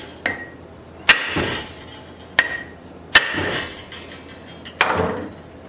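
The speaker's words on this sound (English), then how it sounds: "So I'm going to try to beat it over a little bit." Metal hammer blows on a bent metal part of a workshop shop press: five sharp, ringing strikes spaced irregularly, close and loud, each followed by a brief metallic decay and quiet shop background between hits.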